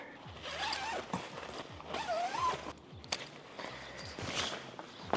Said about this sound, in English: So we're going to unzip the perimeter here.